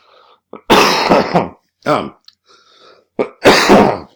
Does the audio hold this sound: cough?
yes